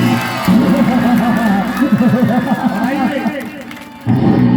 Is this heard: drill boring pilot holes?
no